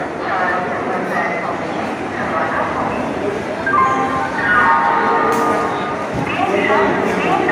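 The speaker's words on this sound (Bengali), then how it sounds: "আমাদের ট্রেন ঢুকছে" A passenger train rumbles into a busy Indian railway station on the Howrah line, a broad, loud roar with rattling and screeching. Crowd noise and a nearby voice talking sit over the rumble.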